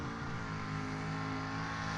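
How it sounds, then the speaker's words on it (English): Super truck racing engines at a mud racing event rev hard in a loud, steady, close-up drone with no pause. "Racing engines, helping him out."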